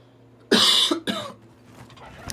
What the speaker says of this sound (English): It's a good thing I'm coughing.